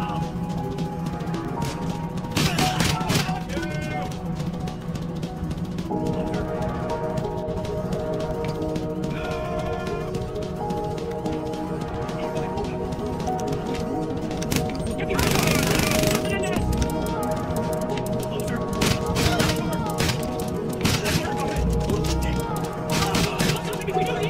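Rapid gunfire bursts in an open-world crime video game, loud, irregular volleys mixed with game effects and music while a player talks over them.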